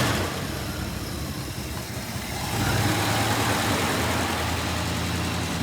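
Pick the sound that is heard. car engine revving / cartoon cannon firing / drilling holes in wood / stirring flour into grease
car engine revving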